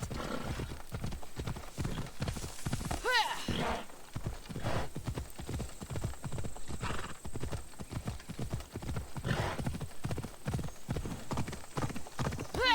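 Steady video-game hoofbeats clip-clop in a quick galloping rhythm throughout, with a horse whinnying a couple of times along the way.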